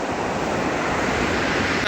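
Ocean waves wash in at a San Diego beach near the Mexico border, a broad continuous roar of surf mixed with wind buffeting the microphone, close and steady.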